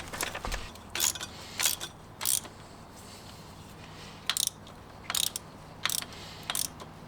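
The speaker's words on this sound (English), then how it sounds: "You just tighten it until it still moves quite a bit, until it's really tight." A socket spanner tightening a 17 mm bolt on a ground screw bracket for a garden room makes a series of brief metallic ratcheting clicks in short, spaced bursts, close by over a quiet background.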